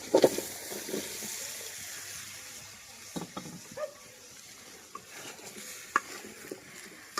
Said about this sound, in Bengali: পেঁয়াজ আলুগুলো দিয়ে কিন্তু হচ্ছে ভালোভাবে নেড়ে ছেড়ে মিশিয়ে নিব, আর এটা হচ্ছে আমি কিছুক্ষণ কষিয়ে নিব